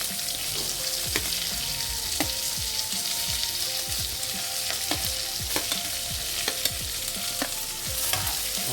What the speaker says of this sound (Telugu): దీంట్లోకి మనం కరివేపాకుతో పాటు ఆనియన్ కూడా వేస్తాం.